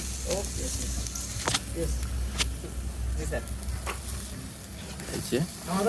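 Meat searing on a barbecue grill and being turned over, a continuous sizzle with sharp scraping clicks from flipping, under someone talking.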